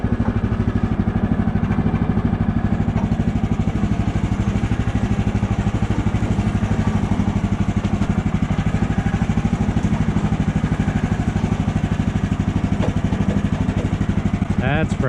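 A portable sawmill engine idles in the cold while warming up, giving a steady, loud, close mechanical rumble with fine rapid clatter throughout.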